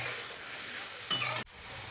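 Misal masala sautéing in a pan, soft continuous sizzle with a brief louder stirring burst that cuts off abruptly, quiet overall.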